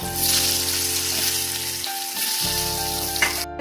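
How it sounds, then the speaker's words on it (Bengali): Potato pieces fry in hot oil left in the kadai after frying eggs, producing a dense, continuous sizzle close by with occasional sputters and stirring, and no one speaking. "ওই তেলেই আলুগুলো ভেজে নেবো"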